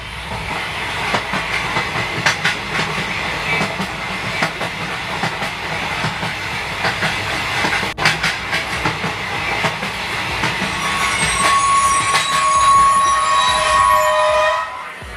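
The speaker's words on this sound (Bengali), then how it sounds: "যথাসময়ে ট্রেন ছাড়লো" A train rolls along with a steady rumble and rattling wheels, loud and close, with a sharp clack midway and hissing brakes near the end.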